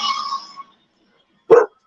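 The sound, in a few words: dogs barking in the background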